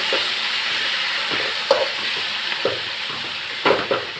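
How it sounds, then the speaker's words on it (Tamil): Sorrel leaves (pulicha keerai) sizzle steadily in hot oil, with occasional clinks and scrapes of a spoon stirring the pan, close by and without talk. "அதையும் போட்டு நல்லா வதக்கிட்டு அந்த எண்ணெயிலேயே"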